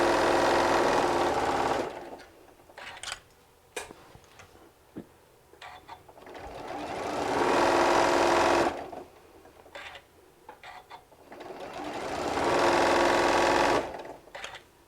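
A sewing machine stitches binding on a walker bag in three long loud runs of rapid steady stitching, with quieter handling and clicks in the pauses between them, close up and no talking.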